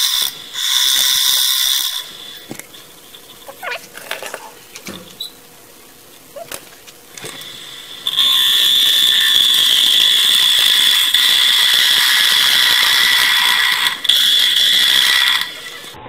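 A bowl gouge making a pull cut on a wooden bowl turning on a lathe, giving a loud, steady shearing hiss in two sustained stretches, with quieter intermittent scraping and knocks between them.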